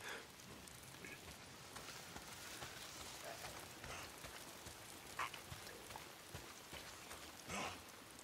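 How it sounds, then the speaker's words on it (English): Steady rain pattering across an outdoor mountain setting in the video game Days Gone, a soft continuous hiss with occasional louder drips and taps, faint and even throughout. "it's the goddamn rain. Is it always raining?"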